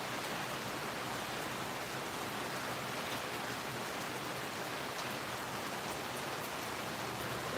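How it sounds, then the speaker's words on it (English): Rain falls outside after hours of wet weather, a soft, even, continuous hiss that stays faint and distant throughout with no talking. "And it has been raining for, you know, a good 4 or 5 hours now."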